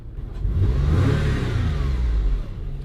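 A Porsche 718 Cayman GTS engine with stock exhaust revs up and holds a deep, smooth growl, fairly quiet and close, with no talking.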